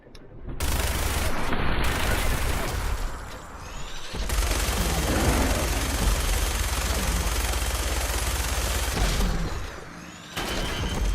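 Rapid, sustained gunfire in a Fallout 4 firefight, dense bursts of shots and booms rolling almost continuously for several seconds, loud and up front, breaking off briefly before resuming.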